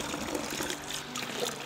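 Water from a cold holy spring at Vodice in northern Bačka, Vojvodina, trickling and splashing steadily at close range, with no talk over it.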